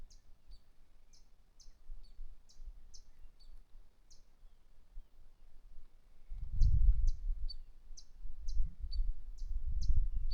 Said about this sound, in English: Can you hear